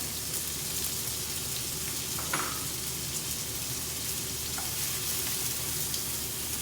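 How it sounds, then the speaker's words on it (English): Steady, soft sizzling of fat frying in a pan, a constant crackling hiss with a couple of faint clinks, no talking. "we'll start off with frying off some of the fat"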